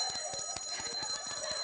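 A hand bell rings outdoors in a steady, rapid jingle of repeated metallic strikes, continuous and fairly loud throughout, with no talking.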